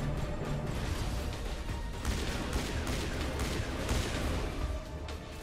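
Sustained gunfire from a powerful weapon in Mass Effect Legendary Edition, a dense, steady barrage of shots and crashes filling the whole stretch with little pause.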